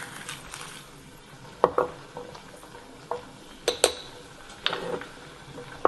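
A spoon stirs mild hot pepper flakes and sugar together in a bowl, giving scattered light scraping clinks at an irregular pace, close and fairly quiet with no talk.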